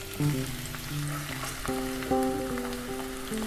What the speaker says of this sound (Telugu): ఆయిల్ మరిగిపోయింది కదా అందులో ఉల్లిపాయలు వేసుకుంటాం